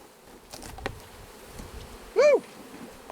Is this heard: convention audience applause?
no